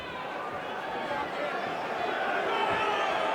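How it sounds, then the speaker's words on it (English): A restless arena crowd at an MMA fight in Denver, a steady broad murmur of many voices filling the hall at moderate distance without a break. "Restless crowd here in Denver"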